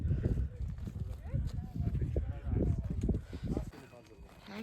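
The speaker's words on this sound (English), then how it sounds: "I know these horses." Horses' hooves clip-clop at a walk on a high mountain pass trail in Nepal, close and steady, while people talk over the plodding steps.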